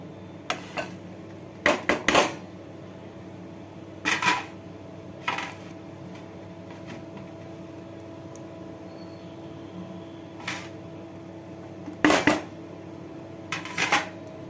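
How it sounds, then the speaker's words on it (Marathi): Dry dates being roasted in a pan, heard as scattered sharp clinks and knocks from stirring, in short bursts spread across a quiet, low background hum, with no talking. "आपण यात खारीक भाजून घेऊया"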